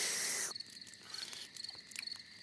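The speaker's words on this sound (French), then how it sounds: "Ce que tu entends, ce sont les criquets qui chantent." Cartoon crickets chirp in a quiet evening scene, a soft steady high trill with faint repeated pulses, alone with no voices.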